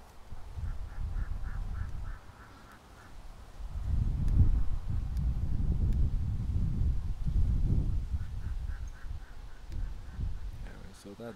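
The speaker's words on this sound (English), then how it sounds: "Oh, I wish the ducks would go back down there." Ducks quack in short bursts at the start and again near the end, with a low rumble and indistinct voice-like noise in between, on a Saturday afternoon.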